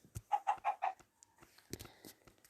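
Minecraft chicken giving a quick series of four clucks, followed by game sounds and soft clicks, quiet and close.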